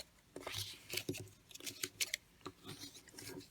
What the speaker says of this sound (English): now you're just going to take your bone folder and crease really well